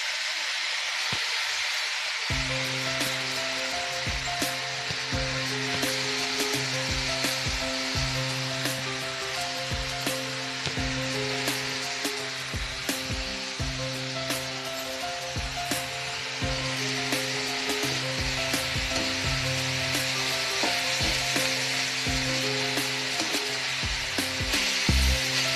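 Onion and cabbage sizzle steadily in a hot pan for spicy bread toast, a loud continuous frying hiss with bubbling crackle that starts abruptly after a brief quiet moment and holds throughout without talk.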